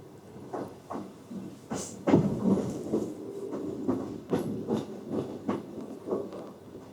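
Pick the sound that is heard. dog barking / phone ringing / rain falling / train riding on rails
train riding on rails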